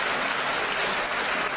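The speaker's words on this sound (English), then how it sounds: "A great point on the second court has the crowd going nuts over here." A crowd at a table tennis team championship semifinal applauds loudly and steadily after a point, a dense wash of clapping and cheering with no clear talk.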